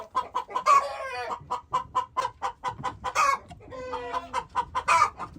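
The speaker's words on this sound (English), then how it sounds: "oh, hi, the chicken came in" A hen clucking repeatedly in a farm barn where newborn goats are kept, a steady run of close, rhythmic clucks with a couple of longer squawking calls in between, no talk over it.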